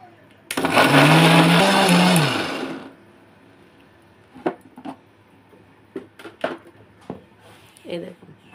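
A kitchen mixer grinder whirs loudly for about two seconds, blending pitted mango flesh into a paste for mango juice. Light clinks of the jar and a woman's speech follow once the motor stops.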